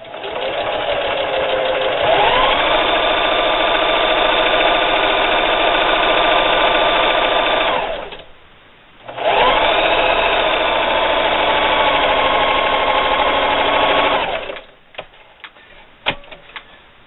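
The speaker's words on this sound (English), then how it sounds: "with a 1/4 inch seam allowance, I'm just going to sew a seam right down this edge here" A sewing machine stitches a quarter-inch seam along a quilt block edge, a loud, fast, buzzing run of stitches that pauses briefly, then starts again and runs for several more seconds before stopping, followed by a few light clicks.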